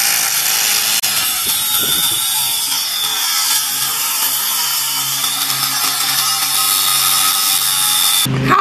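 A power saw cuts a groove beside a laid-down pipe for an invisible dog fence, with a loud, continuous whining buzz that runs steadily for several seconds and stops abruptly near the end.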